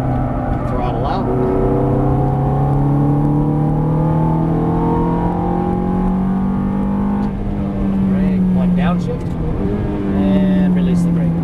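Ferrari F430 engine pulling hard out of a turn, a loud continuous rising drone with steady pitch sweeps, running throughout beneath a voice giving driving instructions.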